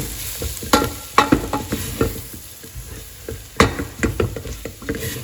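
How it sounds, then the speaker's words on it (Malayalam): Sliced onions frying in oil in a pan for chicken curry, a soft continuous sizzle broken by repeated scraping stirs of a spoon, close and clear with no talking. "ഉള്ളി നന്നായിട്ട് വഴണ്ടിട്ടുണ്ട് കേട്ടോ"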